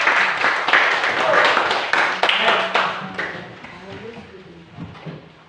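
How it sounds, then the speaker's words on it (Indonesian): A classroom of students claps for their class president, a lively burst of many hands that thins out and fades, with voices talking as it dies down. "kita beri tepuk tangan untuk presiden"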